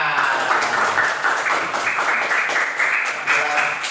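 A classroom of students claps hands together in a brief burst of steady, moderately loud clapping with faint voices mixed in.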